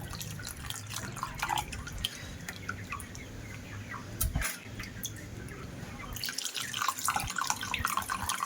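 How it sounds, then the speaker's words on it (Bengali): Cold water splashes and drips as sago pearls are rinsed for a milk pudding, a close, fairly quiet patter of water with no talk. "এবার একটু জল দিয়ে দেবো ঠান্ডা জল দিয়ে ভালো করে ধুয়ে নেব"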